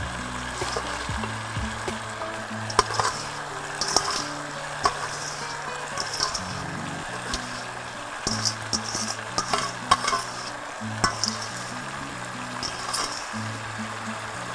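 Chopped watercress being stirred into brown stew turkey wings in a pot, a continuous wet bubbling simmer with scraping and clinking of the spoon against the pot, close and steady throughout.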